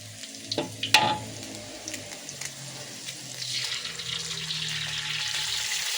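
An egg dropped into a pan of stir-fried glass noodles, with a few sharp clatters at the start, then a rising hiss of sizzling oil that builds and holds.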